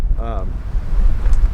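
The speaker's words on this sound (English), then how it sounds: "I'm sorry if it's really windy. It's been windy since I've been here." Wind gusting across a microphone in a state park, a heavy low rumbling buffet that surges and dips through the whole moment, with a brief tonal whine near the start.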